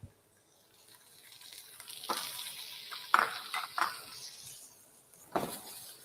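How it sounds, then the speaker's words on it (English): Shell-on prawns frying in a pan over high heat for Singapore laksa, a steady close sizzle that swells in with scattered sharp clinks and scrapes of a utensil against the pan. "So we will fry till the prawn shells is orange in color."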